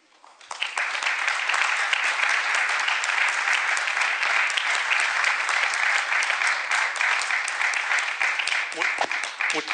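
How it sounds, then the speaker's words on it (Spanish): Strong, sustained audience applause after a conference talk at a football film festival, a dense, even roar of clapping from many hands lasting nearly ten seconds. "me atrevo a pedir para todos ellos y cada uno de ellos y ella un fuerte aplauso por esta magnífica conferencia"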